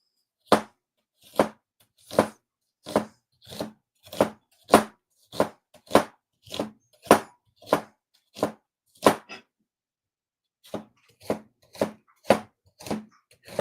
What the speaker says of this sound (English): we're just going to julienne very thin this onion